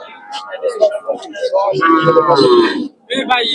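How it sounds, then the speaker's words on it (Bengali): Cattle at a rural livestock market moo in loud, close, drawn-out calls, with a brief pause before another call, and crowd voices in the background. "দেশি দেশি গরু মাসাল্লাহ"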